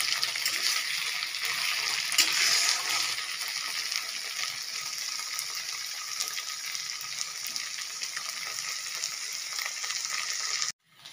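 Spice paste with potatoes sautés in a pan for a katla fish kalia, giving a continuous close sizzle with light stirring clicks before it cuts off abruptly at the end.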